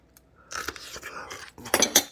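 Crisp, crunchy bites of chunky young-radish greens kimchi, a few close, moist crunches with a quiet pause before louder bursts near the end, no talking.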